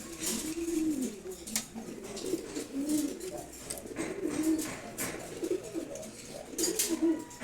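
Crested Giribaj pigeons coo in low, repeated rolling phrases at a steady rhythm nearby, mixed with faint sharp taps and flutters as they hop between wooden perches, with no talking.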